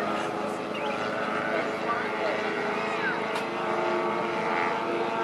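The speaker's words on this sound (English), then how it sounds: "A rolling circle, as you see, is doing a large circle while the plane is rolling." A model airplane engine drones steadily overhead at a club fly-in while performing a rolling circle, a continuous buzzing whine with slight pitch shifts as it turns.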